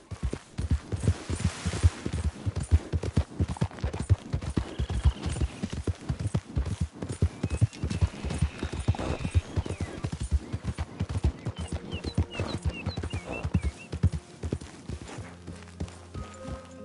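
A horse gallops in the video game Red Dead Redemption 2, steady rapid hoofbeats clip-clopping throughout, with faint game ambience and a voice briefly heard.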